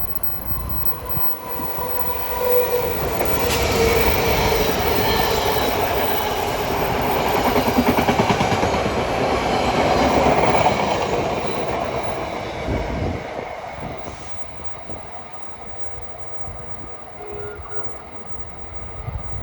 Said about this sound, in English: And approaching on track 3 is train 3363.